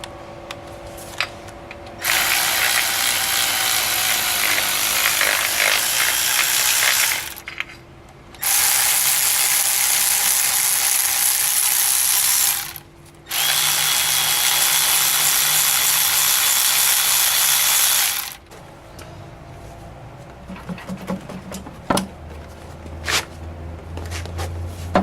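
A ratchet fitted with an E14 socket clicks rapidly while removing bolts from a BMW M52 engine taken out of an E36, in three long continuous bursts separated by short pauses, followed by scattered metallic clinks and taps.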